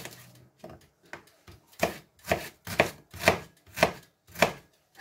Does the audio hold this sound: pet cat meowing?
no